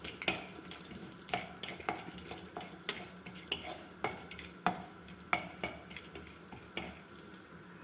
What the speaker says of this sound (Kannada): ಈಗ ಇದಕ್ಕೆ ಒಂದು ಸ್ವಲ್ಪ ಗೋಡಂಬಿ ಪೀಸುಗಳು ಮತ್ತು ಒಂದು ಸ್ವಲ್ಪ ಬಾದಾಮಿ ಪೀಸುಗಳು ಹಾಕಿ ಇದನ್ನು ಸ್ವಲ್ಪ ಹುರ್ಕೊಳ್ಳೋಣ